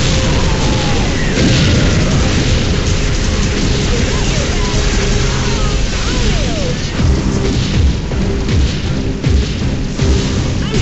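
Vehicle blowing up in Unreal Tournament 2004, a dense, loud rumbling blast that fills the scene and carries on as continuous booming and crashing under other game noise.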